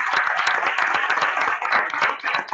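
An audience at a Thermomix TM6 cooking class claps together in steady, dense applause that fills the whole short stretch at moderate volume.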